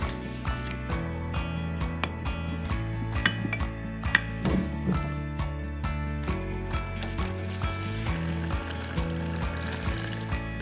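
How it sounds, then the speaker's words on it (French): Wood ash and water are poured into a container, with clinking and knocking of the vessel among soft trickling, close and fairly quiet, while a person talks throughout. "on en verse l'équivalent de 2 verres dans notre contenant et on recouvre d'eau"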